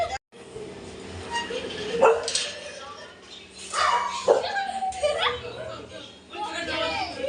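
A dog barks, yips and whimpers in several sharp, close bursts during a lively outdoor colour-playing gathering, mixed with people talking nearby.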